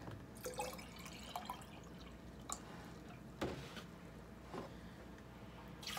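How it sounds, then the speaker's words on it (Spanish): Blended green juice with spinach is emptied into a bowl, faint dripping and trickling liquid with a few soft splashes and knocks, quiet throughout and without talking. "Aquí lo voy a vaciar en mi bol"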